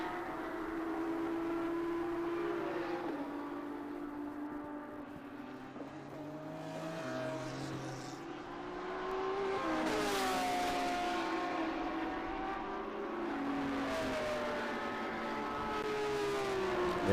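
A Kaizen Autosport Lamborghini race car roars past during a SpeedTour race at Road Atlanta. Engine tones rise and fall as cars pass one after another, fairly distant, with no talk over the engine noise.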